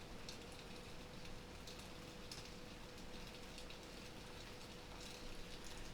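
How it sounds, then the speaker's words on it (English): Rain falling in Florida, a steady, faint hiss of drops with scattered brighter patters throughout, continuous and without talk. "And it's starting to rain again."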